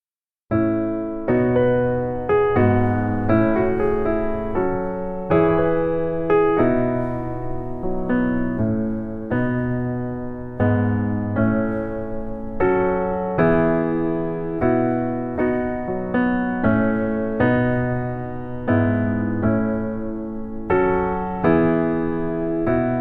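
Solo piano plays the intro of a song, a steady series of clear, resonant chords and melody notes sounding close and alone for about twenty seconds.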